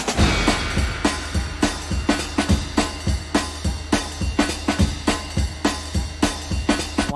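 Recorded hip-hop track, built on a 1930s swing music mix, plays loud and steady with punchy, regular drum hits over a busy horn-and-bass backdrop and no talking.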